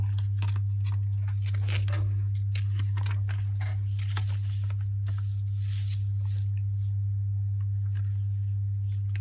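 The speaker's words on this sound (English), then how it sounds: "Sorry about the noise, this machine is making a buzzing sound" A laminator buzzes steadily with a strong low hum while a paper specimen card is fed through, overlaid by light rustling, crinkling and tapping of paper and hands nearby.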